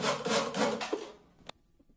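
A screw driven into wood to fix a hydraulic pump bracket, giving a dense rasping, grinding burst for just over a second that ends in a sharp click, then near silence.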